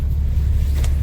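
Inside a moving bus after arriving in Moscow, a deep, steady engine rumble drones on with a low continuous road noise.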